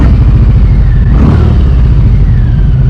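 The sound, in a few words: Harley Davidson motorcycle engine revving, clunking into first gear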